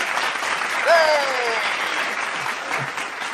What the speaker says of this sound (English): Vince, drop the clap again for Michael Reddick